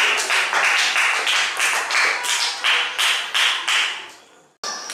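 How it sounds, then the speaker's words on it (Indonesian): A classroom of fifth-grade pupils claps for two classmates, a dense burst of many hands slapping in quick uneven waves for several seconds before the applause breaks off abruptly. "kasih tepuk tangan untuk mereka berdua ya"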